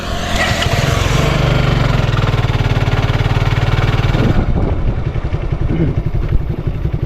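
A motorcycle engine runs close by, a loud steady throbbing rumble that turns into a rougher, separate pulsing beat toward the end.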